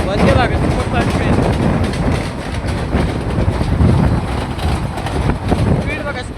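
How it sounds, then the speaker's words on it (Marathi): A Vande Bharat superfast train runs near Thane and Dombivli, giving a loud, steady rumble and rattle that holds for the whole stretch with no clear break. "Vande Bharat superfast train."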